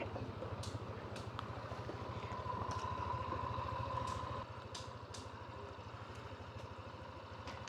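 A motorcycle engine idles at a steady low throb on a solo touring trip near Padang Bai, Bali, with faint clicks and clatter scattered through a busy background.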